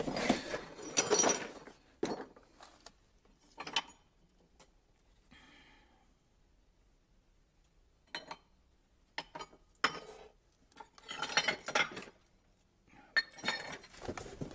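Glass art pieces are handled and knocked together, making several bursts of bright clinks and chinks separated by quiet pauses, close by and without talk.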